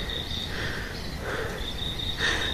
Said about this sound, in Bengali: তো রাত্রিবেলা আর কি ঝিঝি পোকার ডাক পড়ে গেছে,